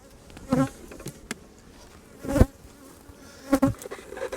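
Honeybees buzz around an open hive with glossy propolis and a small cluster working the frames, a steady insect hum with several louder close passes as bees fly near.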